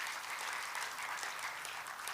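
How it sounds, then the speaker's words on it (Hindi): Audience applause at a Shrimad Devi Bhagwat Katha, a Hindu religious discourse, with steady dense clapping from a crowd that sounds somewhat distant and moderately quiet, continuing evenly without speech. "बिल्कुल तालियों से स्वागत करिए।"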